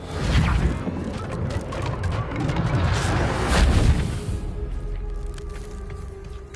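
The Confringo blasting spell in Hogwarts Legacy bursts out as a loud, rumbling explosion with crashing debris noise, swelling to a peak midway before slowly settling.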